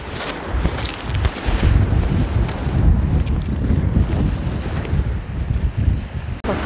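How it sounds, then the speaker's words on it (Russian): Stormy sea with surf and waves breaking under strong, squally wind in a bay, a continuous loud roar of water and gusts buffeting the microphone, with no voices. "Штормящее море, что усиливается."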